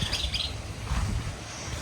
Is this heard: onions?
no